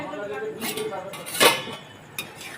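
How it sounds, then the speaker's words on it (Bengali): Lid lifted off a cooking pot of sweet star fruit pickle, a sharp metallic clink and scrape near the middle and a second lighter clink just after, close by, with a voice talking around it. "ঢাকা দিয়ে দেবো ঢাকনাটা খুলে দেখে নেব"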